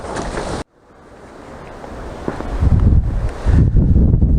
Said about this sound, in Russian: Порыв ветра и со штатива камеру сбросило